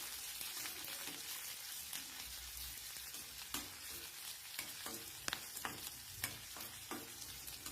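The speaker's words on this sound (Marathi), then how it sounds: "छान तेलावर परतून घ्यायचे बघा" Green chilies and garlic sautéing in hot oil give a steady, fairly quiet sizzle. Crisp crackles and pops come through irregularly, and spatula stirs scrape now and then.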